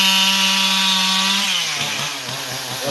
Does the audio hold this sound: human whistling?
no